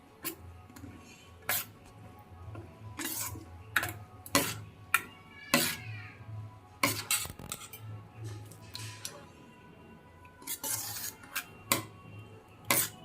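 Rice flour and water are stirred into batter in a bowl for chitoi pitha, making scattered, intermittent scraping and rubbing clinks of a utensil against the bowl, close and fairly faint, at an uneven pace.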